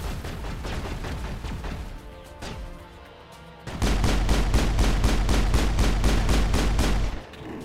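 Rapid gunfire from the video game Mass Effect crackles in dense bursts, easing off briefly midway before a heavier, louder stretch of steady automatic shots hammers on, then cuts off near the end.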